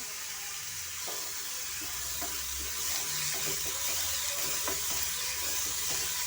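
Curry leaves frying in hot oil for pepper chicken give a steady, even hiss that runs unbroken throughout at moderate level, with faint scattered pops and no voices.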